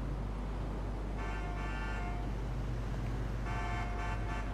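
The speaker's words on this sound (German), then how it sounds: "Da hat einer gehupt" Car horn honking in the game GTA Online, two separate blasts of a steady harmonic toot over a constant low engine and traffic drone, fairly loud and with no talk.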